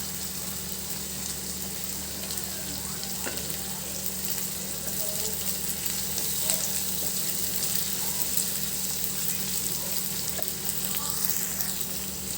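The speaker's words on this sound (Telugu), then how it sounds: "ఇలా ఫ్రై అయ్యేటప్పుడు అండి నేను కట్ చేసి పెట్టుకున్న పచ్చిమిర్చి కూడా వేస్తానండి." Cut green chillies fry in hot oil in a pan, giving a steady, dense sizzle with faint crackles and a low background hum, with occasional soft speech underneath.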